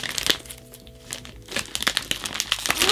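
Close, crisp crinkling and rustling of a plastic-wrapped sticker package being opened, in irregular handling bursts with a brief tearing texture.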